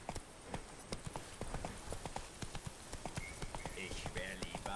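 Rhythmic clip-clop of horse hooves at a steady gallop in the video game The Witcher 3: Blood and Wine, crisp and close, with a voice speaking over it at times.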